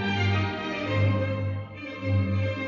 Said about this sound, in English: 326 hands playing Mozart.